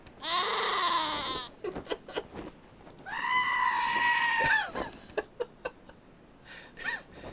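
Goat bleating in the post-apocalyptic video game Wasteland 2: two long, loud, wavering bleats close up, then scattered short clicks and thuds from the game.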